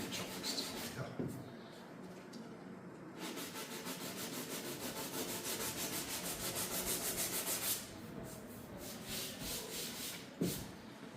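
Hand sanding of a car body panel with coarse 120 grit sandpaper in a body shop, giving rhythmic scratchy back-and-forth rubbing strokes in bursts, close and fairly quiet, with pauses between passes.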